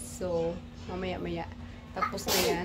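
A single sharp sneeze bursts out near the end, close and loud, right after a person speaking.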